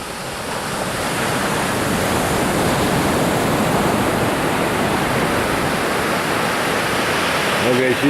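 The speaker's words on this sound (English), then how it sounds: "the smack of the waves." Pacific Ocean surf breaking on a rocky shore at Brookings, Oregon, a steady loud roar of crashing waves that swells in over the first second and holds without pause, close and broadband, with no talk.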